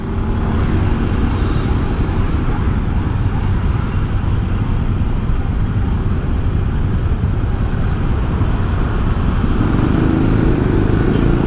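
Steady, loud roar of motorcycles and other traffic idling and creeping in a jam on a main road in Bali, a dense continuous engine rumble with no pauses throughout.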